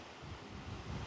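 Steady wind buffets the microphone on the windy San Isidro riverside promenade where kitesurfers ride, a continuous low rumbling roar with no voices for the whole moment.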